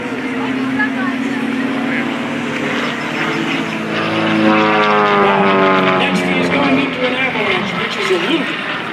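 An aerobatic propeller plane's engine drones loudly and steadily at the 2024 Leesburg Airshow, its pitch rising and sweeping through a strong whine midway as it maneuvers, with some talking mixed in.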